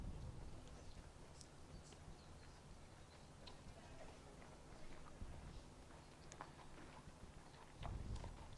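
Horse hooves on a hard surface at a CCI 5*L eventing horse inspection, a steady faint clip-clop of walking strides across the whole stretch, distant and quiet under a low outdoor background murmur.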